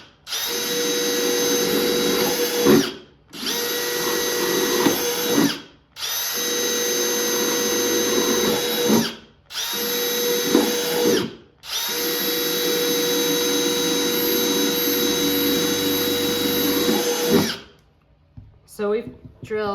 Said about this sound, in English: Now you want to drill 5 to 6 drainage holes. I'm using a 1/4 inch drill bit for this.